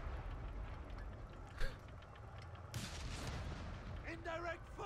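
Indirect artillery fire in the strategy game Company of Heroes 3, a steady rumbling battle bed with a sharp distant boom and scattered impacts, faint and continuous beneath quiet voice chatter.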